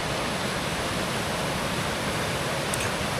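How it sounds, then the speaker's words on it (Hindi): The Tirthan River in Himachal's Tirthan Valley runs in full flow, a dense, steady roar of rushing water that fills the scene without letup and with no voices. "आप भी मेरी तरह सुन रहे हैं तीर्थन नदी का ये सुंदर सा गीत"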